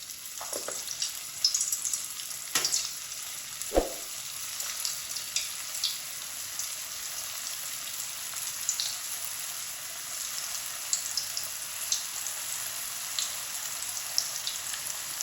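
Potatoes frying in hot oil over a medium flame, a steady bright sizzle with scattered crackles and a few sharp pops, close and constant throughout with no talking.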